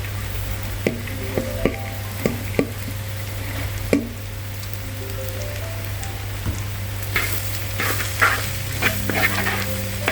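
Onions frying in a pan for a Kerala cuttlefish dish, a loud steady sizzle with irregular clinks and scrapes of a spoon stirring, close up, over a constant low hum, no voices.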